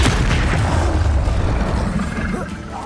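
A Confringo fire-blast spell bursts in the video game Hogwarts Legacy, a heavy, loud boom rolling into a low rumble that fades over a few seconds.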